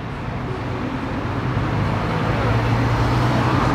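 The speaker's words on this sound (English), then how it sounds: "I don't know if you can hear anything. The traffic is crazy." Heavy city road traffic on Dorset Street in Dublin, a dense, steady roar of cars and buses passing close by, loud and continuous with no distinct voices.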